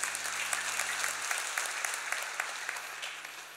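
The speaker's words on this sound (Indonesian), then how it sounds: "Kita beri tepuk tangan untuk kebenaran ini" A congregation claps during a church sermon, scattered hand claps forming steady applause that gradually thins and fades, with a low hum in the first second and no talking.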